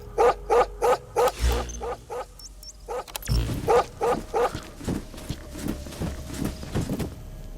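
Dog barking in the video game Metal Gear Solid V, a rapid series of loud, close barks in rhythmic bursts, followed by further repeated barking with game sounds in between.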